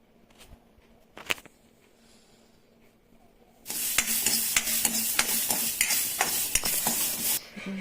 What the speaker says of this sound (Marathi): ही जे तुरीचे शेंगाचे दाणे आहेत ते पण थोडे तेल टाकून भाजून घेऊ